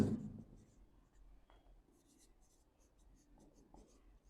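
Pen writing a reason for a maths exercise on similar figures, a faint soft scratching in short strokes under a quiet background with a brief low thump at the start.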